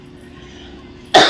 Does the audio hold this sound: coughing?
yes